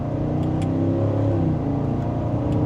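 A 2025 Cadillac Escalade, a heavy SUV, accelerating hard in sport mode under paddle-shifted gear changes from second, with its engine roaring loud and close in a steady climb. No one speaks.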